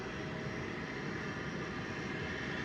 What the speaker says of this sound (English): We do have another plane just about to get here. This is another Embraer 170.